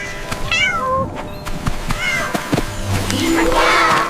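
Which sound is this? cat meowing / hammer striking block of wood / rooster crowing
cat meowing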